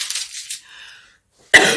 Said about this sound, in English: I'm really getting really annoyed by this cough.